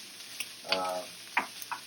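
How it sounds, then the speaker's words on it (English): Onions for ratatouille cook in a pan with a soft, steady sizzle, broken by a few sharp clicks and scrapes of stirring, close and fairly quiet. "You want to get the onions to be a little translucent, so this will be cooking for about 5 minutes"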